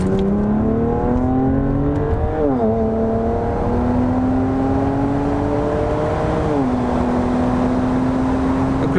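Exhaust line of an ethanol-tuned BMW 335i with the N54 engine droning steadily from inside the car, the tone climbing through gears with two brief dips at shifts, loud and continuous without talk.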